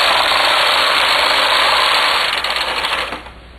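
A knitting machine carriage is pushed across a row of drop lace stole work, a loud, steady mechanical whir and rattle that cuts off near the end.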